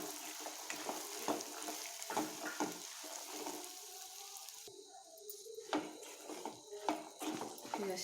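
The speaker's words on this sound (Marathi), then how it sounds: "हे असे 2 ते 3 मिनिटं चणे परतून घ्यायचे." Chickpeas with black masala sauté in a hot pan, a close steady sizzle broken by repeated spoon scrapes and stirring knocks, with no speech.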